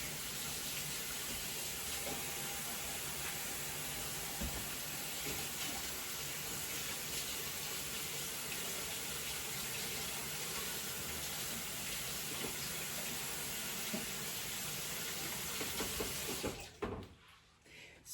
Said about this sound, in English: I'm just going to wash my hands off before I take that out.